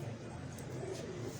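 A champion female pigeon gives a soft, low cooing on a Karachi rooftop, faint and brief against steady background noise.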